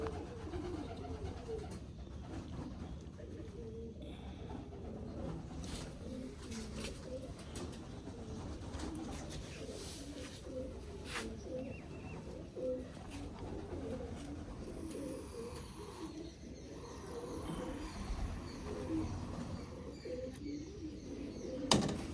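Soft, low pigeon cooing repeats close by amid quiet rustling and faint background noise, with occasional light chirps.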